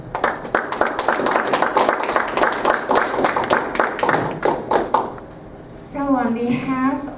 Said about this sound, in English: I think we need to give these men and women a big round of applause